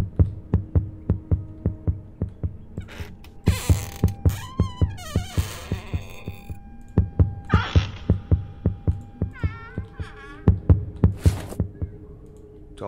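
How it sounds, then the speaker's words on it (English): Steady, regular thumping heartbeat from a doll in the horror video game Palmyra Orphanage, pulsing loudly throughout under eerie tonal sweeps and creaking game effects. "Oh, is it the doll's heartbeat?"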